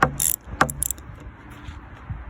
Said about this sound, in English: I'm just gonna get them loose because it's hard to do with one hand.